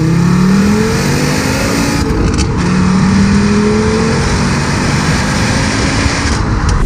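Front-wheel-drive Volkswagen Bora with a VR5 engine driving and pulling through the gears, a loud, close, throaty engine note rising in pitch several times over a constant roar, no talk.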